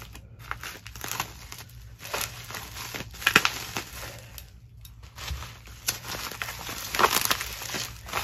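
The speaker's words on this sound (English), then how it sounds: "This here, I gotta cut this open." A package being cut open during an unboxing: steady crinkling and tearing of packaging material, close and fairly continuous, with a few sharper snips and crunches and no talking.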